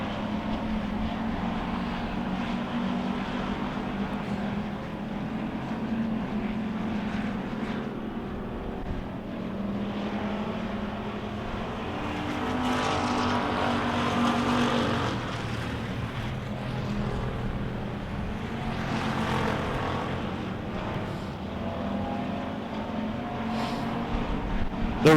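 Wissota Pure Stock cars race around a dirt oval, their engines merging into a steady, unbroken roar from some distance that swells slightly midway.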